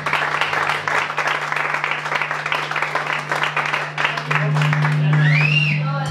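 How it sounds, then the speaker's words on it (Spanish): Loud crowd applause at a metal festival, dense clapping and cheering that swells for several seconds, with a steady low hum and a rising whistle near the end. "Y un fuerte aplauso para Cocer Smile."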